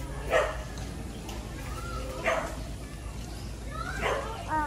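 Dog outdoors on a zoo outing, giving three or four short yips and whimpers spaced a couple of seconds apart, moderately close, with people talking.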